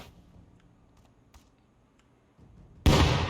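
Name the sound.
porcelain grenade exploding in the video game Rust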